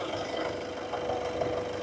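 A 2015 Mercedes C220D diesel engine idles steadily, a close, continuous low hum and mechanical clatter with an even, unbroken level and no speech.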